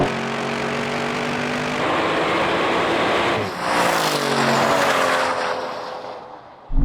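Aston Martin V12 cars in a drag race, engines revving hard with a rising, harmonic roar that climbs and shifts through gear changes before fading toward the end.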